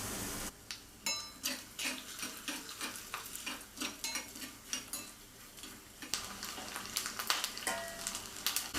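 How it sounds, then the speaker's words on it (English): Sliced coconut pieces roast in desi ghee in a small tadka pan with a crackling sizzle, punctuated by rhythmic scraping and tapping of a stirring spoon that grows busier toward the end. "So while I'm roasting the coconut pieces, the payasam is simmering on low flame."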